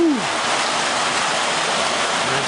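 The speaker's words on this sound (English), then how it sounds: "I haven't seen it rain like this for a long time." Heavy rain pours down in a dense, loud, unbroken roaring hiss, close and steady throughout after a brief falling tone at the start.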